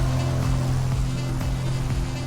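Corsair aircraft engine in Microsoft Flight Simulator, a loud steady droning hum with a low throbbing tone, heard from behind the plane, continuous without voices.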